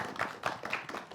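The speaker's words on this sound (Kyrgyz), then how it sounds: "Кол чабуулар болсун." A small group claps at a school performance event, a few light, fairly quick hand claps in an uneven rhythm, close and moderately soft.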